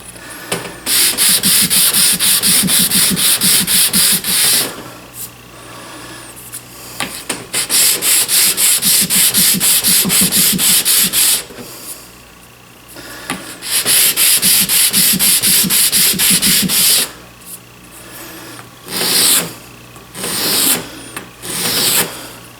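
Hand sanding of a custom wooden chisel cover on a granite surface plate, in four long bursts of loud, rapid back-and-forth rubbing strokes, each lasting several seconds, with short pauses and a few choppy strokes at the end.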